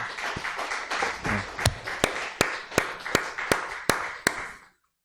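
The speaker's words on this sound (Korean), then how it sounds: "이럴 때 박수 치는 거 아닐까요?" A church congregation at a Thanksgiving service claps in slow, steady unison, about a dozen sharp rhythmic beats over a scattered patter of hands, ending abruptly into silence.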